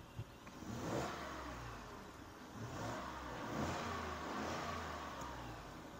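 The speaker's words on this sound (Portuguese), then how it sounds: "Vou até dar um gostinho de ronco para vocês aqui." A Ford F-150 XLT pickup's engine revs in a few rising surges over a steady low rumble, fairly close, with no talking.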